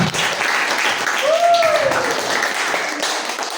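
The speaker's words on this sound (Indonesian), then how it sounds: "aplaus untuk kita semua dan presentasi" Applause from a classroom audience after a student presentation, a steady wash of clapping lasting a few seconds with a faint tone sliding through the middle.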